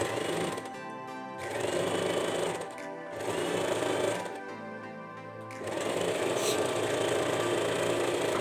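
A sewing machine stitches fabric in long continuous runs, its needle whirring steadily and close, with two short pauses between bursts of stitching.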